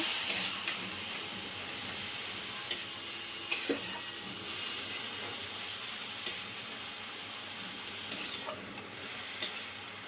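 Cumin seeds, ginger and spices frying in oil for mugh dal give a soft, steady sizzle, with scattered sharp clicks and taps from stirring.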